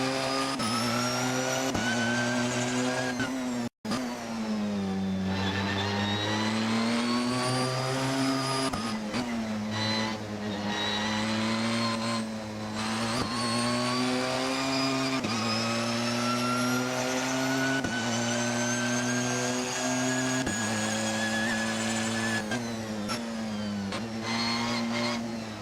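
A 2016 Porsche 911 hybrid driven in a racing video game, its engine droning steadily and loudly throughout, pitch rising and falling with revs and gear changes, broken by one brief dropout early on.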